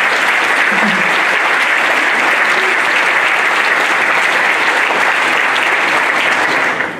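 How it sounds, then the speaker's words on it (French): An audience at a speech event breaks into sustained, loud applause that fills the whole stretch as a dense, even wash of clapping before tapering off at the very end. "vous pouvez applaudir"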